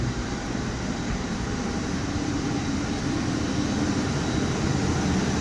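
Steady airplane engine drone heard while boarding an aircraft, a continuous loud broadband roar that stays constant throughout with no breaks, without talk.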